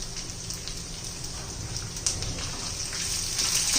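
Ginger-garlic paste sizzles steadily in hot oil for a Marathi potato curry, a close, continuous hiss and crackle that grows slightly louder toward the end, with no talking.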